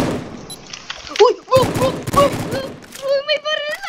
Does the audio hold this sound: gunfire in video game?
yes